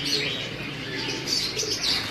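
Pigeons cooing in a loft or coop with soft low coos and faint chirps, close and steady throughout, with no talking.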